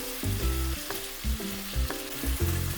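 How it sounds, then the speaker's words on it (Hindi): Big pieces of tomato fry in a pan over a medium gas flame, giving a steady close sizzle with repeated scraping and stirring clatters of a spoon against the pan. "भूनेंगे टमाटर डालकर आधा मिनट।"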